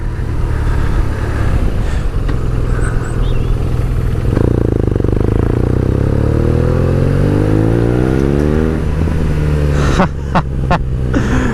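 Motorcycle engine blubbing at around 35 mph on a road ride, a loud low burble under heavy wind rumble, its pitch sweeping up and down with the revs and a few clattering knocks near the end.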